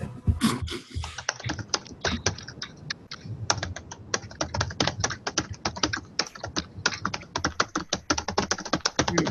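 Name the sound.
someone typing on a computer keyboard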